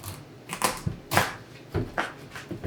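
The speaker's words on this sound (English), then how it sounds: "Get a nice sharp knife and cut it down." A sharp kitchen knife cuts down through a spaghetti squash on a cutting board, giving several close, crisp chopping knocks spread unevenly across a short stretch with no talking.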